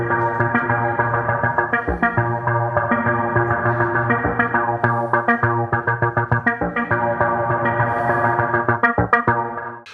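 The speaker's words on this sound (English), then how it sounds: "Let's now try out the reverb algorithm as well on channels 1 and 2." Synth tones from a Tesseract STONK joystick controller run through a reverb effect on two channels, a steady sustained chord with rhythmic plucked notes and tails, loud and continuous with no talk.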